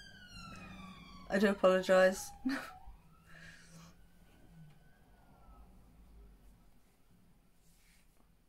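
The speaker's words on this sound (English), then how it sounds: "The sirens are about again." A siren wails faintly in the distance, its tone gliding downward, while a person speaks briefly up close.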